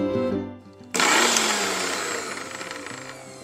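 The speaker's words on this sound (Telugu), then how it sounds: "ఇప్పుడు దీన్ని మనం మిక్సీ పట్టుకోవాలి" A kitchen mixer grinder blending garlic with tamarind pickle starts abruptly after a short hum and runs as a loud, steady whirring grind that slowly tapers, with no talking.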